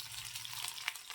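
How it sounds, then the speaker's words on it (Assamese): Onion, chili and vegetables frying in hot oil in a wok, a steady close sizzle with soft crackles for about a second, no voices. "গোটেইখিনি ভেজিটেবল মই ইয়াতে ভাজি ল'ম"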